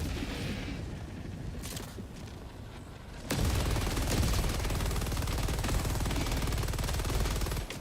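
Rapid automatic gunfire from a high-recoil weapon fired while hovering on a jetpack in Helldivers 2, a dense loud burst that starts abruptly after quieter game ambience and keeps hammering steadily to the end.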